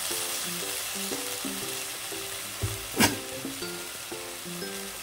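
Egg chowmein noodles with soy sauce stir-frying over a low-to-medium flame give off a soft sizzle, with one sharp clink of the utensil midway, under quiet background music.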